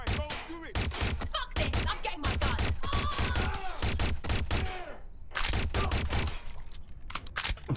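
Rapid bursts of gunfire from the Watch Dogs Legion video game, loud and near, with sharp repeated cracks and thuds across the clip and a brief pause midway. Game voices talk underneath.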